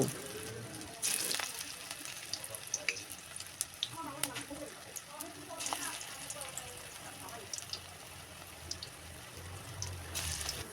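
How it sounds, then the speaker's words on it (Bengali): Gandal leaf pakoras frying in oil in a wok make a steady sizzle through the clip, with a few louder bursts as the batter is dropped in, under occasional speech. "এবার কড়াইতে তেল দিয়ে একে একে ছোট করে তেলের মধ্যে"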